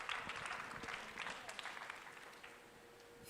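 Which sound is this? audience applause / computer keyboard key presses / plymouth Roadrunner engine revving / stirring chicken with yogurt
audience applause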